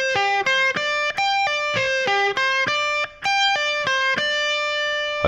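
Distorted electric guitar plays fast arpeggios from a solo, with clipped, separate notes following each other in quick repeating groups at a loud, steady level, unaccompanied and without talk.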